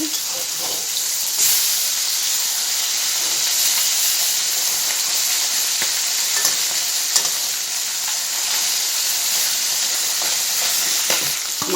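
Steady sizzling and hissing of potatoes frying in a pan, continuous and fairly loud, with occasional soft scrapes and clicks.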